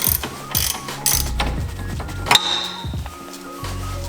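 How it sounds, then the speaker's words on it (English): A 21mm ratchet wrench works a suspension bolt on a BMW during a coilover install, several quick bursts of clicking pawl ratcheting separated by short pauses and a metallic clink, close and crisp, no talk. "So we'll use a 21mm wrench as well."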